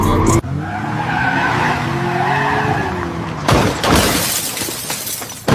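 A car skids around a curve, tires squealing in a sustained, rising screech for a few seconds, followed by a sharp crash-like burst of noise near the end.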